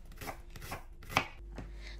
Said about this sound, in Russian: Режу лук очень тонко.